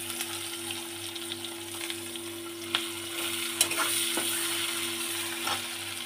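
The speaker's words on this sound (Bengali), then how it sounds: "গোটা জিরের সাথে পেঁয়াজটাও ফোড়ন মানে ভেজে নেবো" Sliced onions frying with whole cumin seeds in a pan over a full flame, a soft continuous sizzle with occasional stirring scrapes and clicks, close but fairly quiet.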